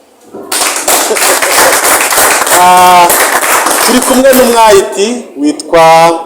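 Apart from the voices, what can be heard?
audience applause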